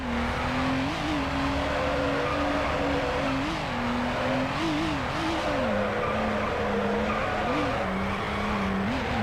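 A car drifts through a corner in Need For Speed Underground, tires squealing continuously over a loud, steady engine drone that wavers in pitch, close and sustained with no talking.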